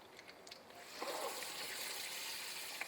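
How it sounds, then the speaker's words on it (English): Water running and trickling over two cans' worth of cannellini beans in a strainer, rinsing and draining them; a quiet, steady flow that swells after a second and keeps splashing softly. "we're going to rinse and drain 2 cans of the cannellini beans"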